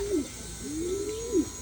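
Pigeons cooing nearby as they are let out one at a time for free flight, a few soft rising and falling calls over faint background hiss.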